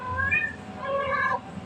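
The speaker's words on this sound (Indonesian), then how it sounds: "Kayaknya aku bawa kucing deh" A cat meows twice in quick succession indoors, two clear drawn-out calls close to the listener, with a low background hum and no talking.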